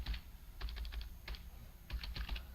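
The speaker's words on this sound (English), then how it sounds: "I'm typing the value in my text box" Keystrokes on a computer keyboard, clicking in short irregular bursts separated by brief pauses, close and fairly quiet, with no talking.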